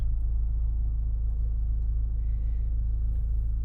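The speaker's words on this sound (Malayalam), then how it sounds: "എഞ്ചിൻ ഓഫ് ചെയ്യാണ്" A car engine idles close by with a loud, steady low rumble that holds evenly throughout, with no voices.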